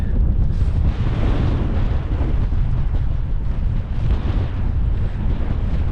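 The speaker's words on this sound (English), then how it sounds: "look at the wind." Strong wind in Norway's Jotunheimen mountains buffets and roars across the microphone in continuous gusts, loud and close, with no voices.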